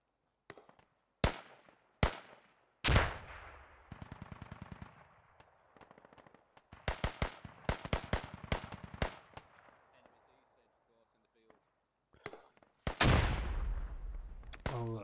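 Grenade explosion and gunfire in a multiplayer shooter, sharp bursts of rapid shots and single cracks separated by gaps, ending in a heavy close blast with a rumbling tail.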